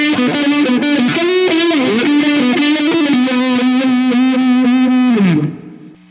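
Electric guitar through an ENO Music Unparallel phaser pedal plays a steady sustained riff, loud and alone, with swirling sweeping motion and texture over the notes before ringing out and fading near the end.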